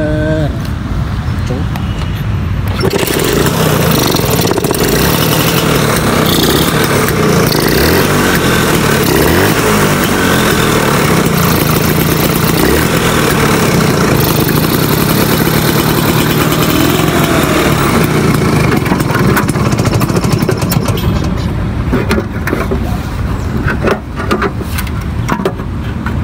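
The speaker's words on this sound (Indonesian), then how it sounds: "Motor tua itu harus sabar." An old motorcycle engine idles loud and close, a steady rough chugging drone that runs throughout, with a brief shift in tone near the start.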